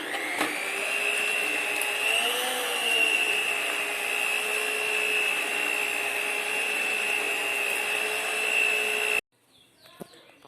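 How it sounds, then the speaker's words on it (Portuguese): An electric stand mixer whips eggs and sugar for sponge cake batter, a loud, steady motor whine with a high tone that runs for about nine seconds and then cuts off, leaving faint handling sounds. "o barulho da batedeira é muito"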